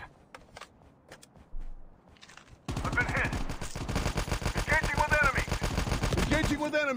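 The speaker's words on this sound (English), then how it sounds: "the recoil on this AK is terrible" Rapid bursts of AK rifle fire from the Call of Duty: Mobile battle royale, loud and sustained for several seconds after a few isolated shots, with game sounds and faint talk beneath.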